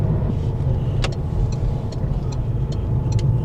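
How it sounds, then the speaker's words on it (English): Road traffic in Tenerife, with cars passing steadily. The engine and tyre rumble is continuous and moderately near, broken by a few brief higher swishes and clicks. "Traffic's going fairly steady."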